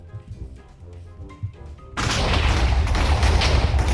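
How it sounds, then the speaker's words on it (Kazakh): A Minecraft creeper explodes in the game: soft music and small thuds give way to a sudden loud, roaring blast that stays heavy and rumbling for about two seconds. "Қаш! Жарылады қазір."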